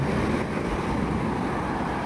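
Sea waves washing at a river outlet in East Poblacion, the surf settling and the wind dying down, a steady, close, unbroken roar of water and breeze with no voices.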